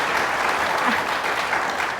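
Applause from a live audience at a Stanford legal talk recorded for radio, a dense, steady wash of many hands clapping close by for the full stretch without pause.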